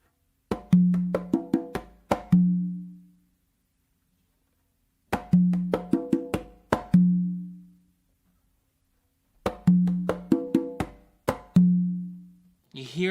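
Conga groove mixing bass strokes, sharp slaps and an accented open tone on the tumba, heard as three close, crisp phrases of rapid hits each closing on resonant ringing tones, separated by pauses.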